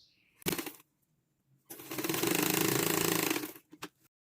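Sewing machine stitching the border of a dish towel: a close, steady buzzing run of about two seconds, preceded by a brief short burst and followed by a few quick clicks.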